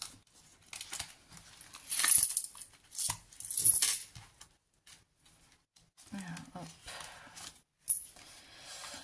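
Coins are tipped out of a paper budget coin envelope onto a surface, giving scattered clinks and jingles in several short bursts with rustling paper, close and fairly faint. Brief quiet gaps separate the bursts.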